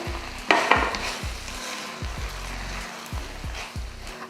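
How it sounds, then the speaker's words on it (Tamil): Tomato rice stirred in a hot pan, with rhythmic scraping and clanking strokes over a low sizzle, close and moderately loud. "சாதம் கிளறியாச்சு"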